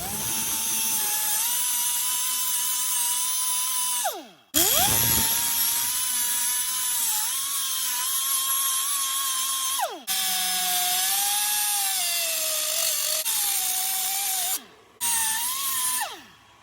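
A high-pitched power tool whines steadily while cutting a steel bracket for fitting Hooker headers on a 1968-69 Ford Torino or Fairlane with a 302/351W engine. It runs in long close stretches, briefly spinning down and restarting several times.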